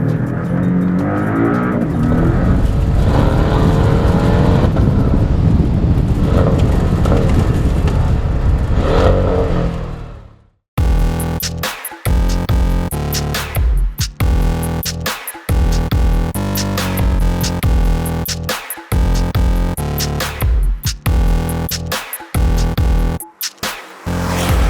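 A 2017 Porsche 718 Cayman S engine drones loudly while driving on a winding road, then cuts to a harsher run of rising and falling revs with abrupt gaps, close and without talk.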